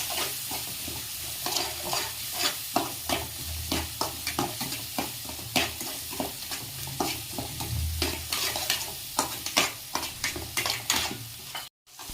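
Boiled beans with spices being stirred in a pan for a farali potato dry bhaji, a spoon scraping steadily in a quick repeated rhythm over a soft continuous sizzle, close and fairly loud.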